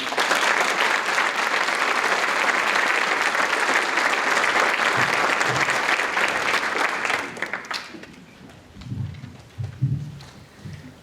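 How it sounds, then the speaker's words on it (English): Audience applause at a middle school National Junior Honor Society induction ceremony for a medal-winning guest speaker, loud sustained clapping from a crowd for about eight seconds, then thinning into scattered claps and low rustling. "Let's have a round of applause for Nicole Wagner."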